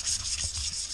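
Pitted metal strut brace being hand polished with abrasive, a close, steady scratchy rubbing in quick back-and-forth strokes over about a second, no voices.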